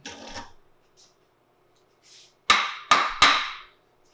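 Three sharp taps of a rifle barrel being seated down into the wooden stock inlet of a Southern Mountain Rifle kit, close and fairly loud, coming after a few softer handling rustles.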